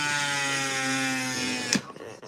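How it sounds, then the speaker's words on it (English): A power drill whines steadily at a high pitch while boring a hole in a cowry shell, then cuts off abruptly with a short clatter. "he's just drilling the hole in them for me"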